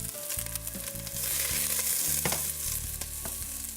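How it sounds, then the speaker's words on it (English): Garlic, ginger and onions sizzle in oil in a hot soup pot, a dense continuous crackling fry with bursts of spatter and stirring throughout. "Add a little bit of oil, and then we'll just add all of our garlic and ginger and garlic and ginger and onions."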